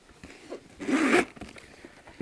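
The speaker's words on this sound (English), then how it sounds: "You've got this zipper compartment in the middle of the bag." A zipper on the middle compartment of a handbag is pulled open in one quick, close rasping stroke lasting about half a second, surrounded by quiet room noise.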